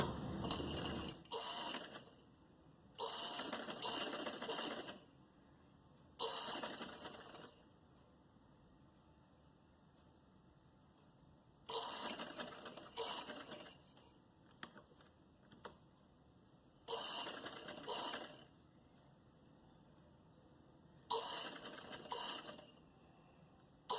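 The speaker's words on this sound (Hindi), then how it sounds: "और इसको भी हम इस तरीके से सिलाई कर लेते हैं।" A sewing machine stitches a blouse neckline in bursts of rapid, buzzing mechanical chatter, each lasting a second or two and separated by quiet pauses. It sounds close and fairly faint.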